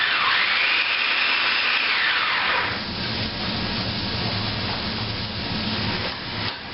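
A kitchen food processor pulses garlic and nuts, a loud whirring motor burst with a rising then falling pitch, followed by a lower rumbling churn and a brief final blip.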